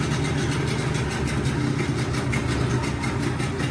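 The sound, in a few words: Hidea 15 PRO two-stroke outboard motor starting and running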